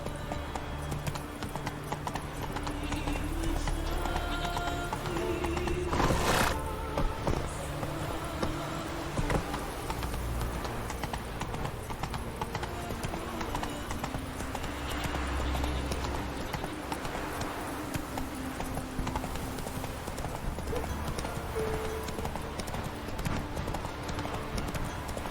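Hooves of the horse Roach clip-clop steadily through a galloping run in The Witcher 3: Wild Hunt, a continuous rhythmic beat that lasts throughout over a bed of game ambience.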